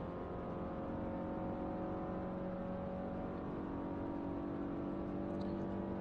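A Renault Clio race car engine in the iRacing simulator hums steadily at a low, even level, a constant droning whine with faint tonal harmonics and no sharp changes across the stretch.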